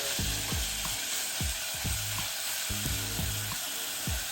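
Chicken pieces for Karachi-style chicken tikka sizzle in hot oil in a pan, a constant close hiss broken by regular dull knocks and scrapes as they are stirred and turned.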